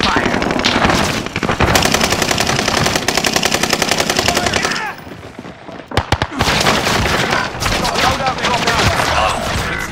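Loud, continuous automatic gunfire fills a Call of Duty Warzone match, with rapid rattling bursts, a short lull, a few sharp single cracks, then renewed firing over background game noise.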